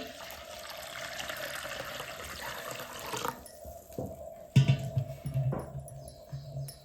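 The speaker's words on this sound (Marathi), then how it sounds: "आता डाळ शिजण्यासाठी आपण पाणी ओतून घेऊ" Water poured into a pot of lentils for cooking, a soft continuous pouring and trickling splash at moderate distance, followed by a few quieter clunks and splashes.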